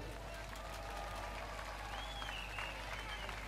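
Spectators gather at the finish line of a professional cycling stage, the Tour of Denmark, and a faint, distant wash of crowd applause and cheering sits under a steady low hum.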